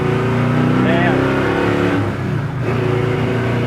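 A 1968 Chevrolet Chevelle Malibu engine revs steadily and smoothly up close, with a brief rise in pitch partway through and a loud, even rumble throughout, while people talk over it.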